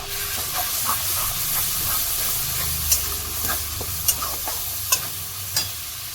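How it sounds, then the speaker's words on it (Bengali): Eggs sauté in a pan with onion, garlic and ginger for egg biryani, a steady close hiss of frying under repeated scraping stirs and a few sharp clicks of the spatula, with no voices. "এবার ডিমটা পেঁয়াজ রসুন আদা দিয়ে একটু কষিয়ে নেব"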